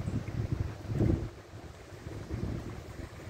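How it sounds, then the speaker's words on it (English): Wind buffets the microphone at a lakeside park on a spring day, a low, rumbling gusty roar that swells and eases over a few seconds with the faint wash of water beneath it. "It's windy today."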